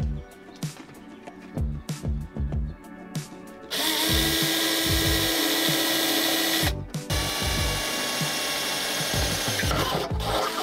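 A power drill whirs in a long, loud continuous burst after a few scraping knocks, briefly pausing, then spinning up again.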